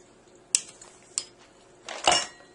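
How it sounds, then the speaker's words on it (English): A spoon clinks and scrapes through blended vegan taco meat in a bowl to take a taste, with two sharp taps followed by a louder scooping scrape, close up with no talking. "take out a spoon or something and give it a little taste"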